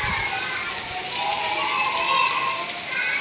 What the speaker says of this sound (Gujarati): વરસાદ પડી રહ્યો છે।